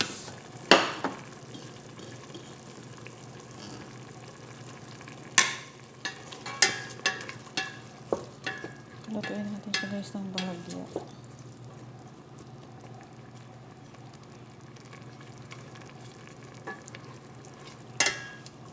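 Beans frying and being stirred in a pan for a Filipino chicken sotanghon guisado, with a low steady sizzle broken by scattered clanks and scrapes of a utensil against the pan, alone with no talk.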